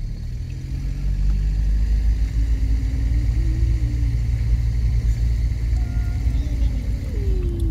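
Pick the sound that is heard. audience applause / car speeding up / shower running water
car speeding up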